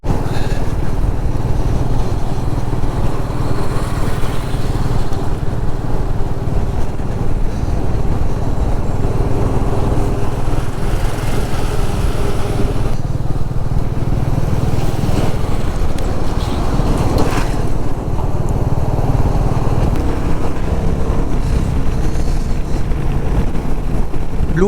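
A Royal Enfield Meteor rides steadily along a highway, its engine drone blended with heavy wind rush, loud and continuous throughout a long non-stop ride.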